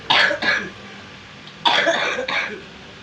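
A person coughs in two close bursts, a short pause, then two more rough coughs, loud and near.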